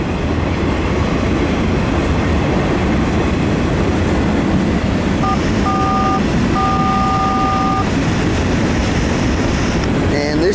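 Norfolk Southern manifest freight train led by an ES44DC locomotive rolling past steadily, a loud continuous rumble of wheels and cars on rail with brief faint radio tones in the middle.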